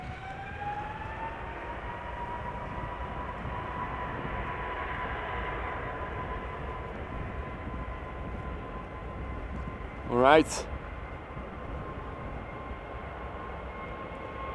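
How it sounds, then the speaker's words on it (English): Steady roar of the GE90 jet engines of an airliner departing Amsterdam Schiphol Airport, a continuous broad rumble with rising whine tones, with a brief voice and a short loud burst near the end. "not too much wind to distort the sound of the GE90s."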